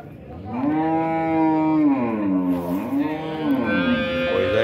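A young heifer at a busy cattle fair in Dois Riachos, Alagoas, gives a long, loud, close mooing call that rises and dips in pitch for several seconds over faint background crowd noise.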